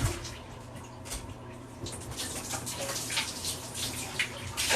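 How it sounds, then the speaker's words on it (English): Running water rinses a toilet tank part during a tank rebuild, a steady splashing stream with small drips and splatters, fairly close and moderate in level throughout. "Let's rinse it too while we're here"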